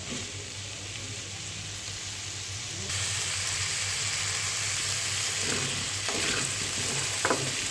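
Steady loud sizzle of vegetables and dal frying in a pan for sabu khichuri, continuous and close, with a few faint scrapes of stirring near the end and no talking.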